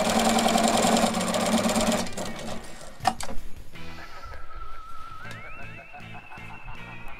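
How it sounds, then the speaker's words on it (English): A sewing machine stitches fabric pieces onto the edges of a spiderweb mini quilt: a loud, fast steady whirring run up close, then stopping, followed by clicks and a softer mechanical hum. "start sewing pieces onto the edges like this"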